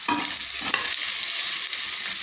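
Tomatoes hit a hot frying pan with cashews and browned ingredients for paneer pulao, a loud continuous sizzle with a few scraping stirs of the spoon near the start.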